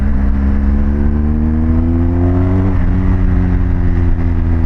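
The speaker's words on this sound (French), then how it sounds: "t'accélères, t'as le bruit de la moto, t'as le shifter" A BMW GS Adventure motorcycle with a quickshifter accelerates steadily at close range with a loud engine drone, its pitch rising and then dropping sharply once, like a clutchless upshift, before climbing again.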